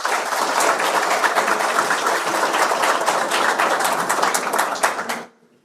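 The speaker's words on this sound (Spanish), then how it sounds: "por quien pido un aplauso." Sustained audience applause at a Spanish-language book launch, a dense wash of many hands clapping steadily for about five seconds before stopping abruptly.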